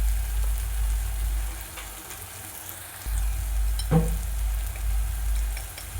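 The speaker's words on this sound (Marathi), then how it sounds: "कांदा टोमॅटो चांगला भाजून घ्यायचा।" Onion and tomato sizzle steadily in a pan, with a few stirring scrapes and a single sharp clink partway through.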